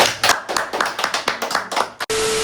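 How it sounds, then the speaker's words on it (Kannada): Friends clap loudly together at a pizza eating challenge, a fast burst of sharp handclaps that ends abruptly before a short electronic tone. "ಒಂದು ಜೋರಾದ ಚಪ್ಪಾಳೆ"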